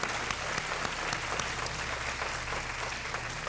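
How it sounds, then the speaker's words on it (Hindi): A studio audience on the Hindi TV quiz show Kaun Banega Crorepati applauds a celebrity guest: loud, continuous, evenly sustained clapping from a large crowd, with no one speaking over it. "थैंक यू सो मच और तालियों के साथ एक बार फिर मिनी माथुर जी का अभिनंदन।"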